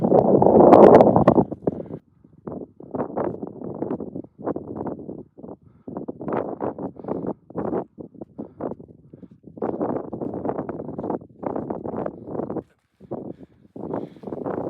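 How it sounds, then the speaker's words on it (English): Wind gusts buffet the microphone on the summit of Truchas Peak, above 13,000 feet in the Pecos Wilderness, arriving in irregular, fairly close bursts with short lulls between them and a louder rush at the start. "You probably hear some wind, but it's just a little bit of a breeze."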